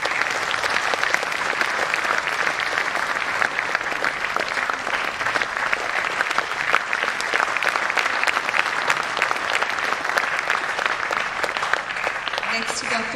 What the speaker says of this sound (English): Please continue the round of applause.